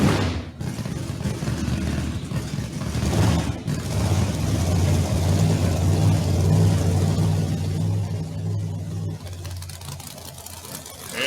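Pro Mod drag racing cars fire up their engines at a Mid-West Drag Racing Series event, a loud sustained rumble building and holding steady with low pulsing tones and occasional thumps.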